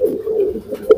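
A pigeon coos softly in low, throaty murmurs, close by, with a slightly sharper coo near the end.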